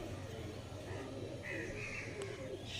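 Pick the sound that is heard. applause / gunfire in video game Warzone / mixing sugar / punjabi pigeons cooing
punjabi pigeons cooing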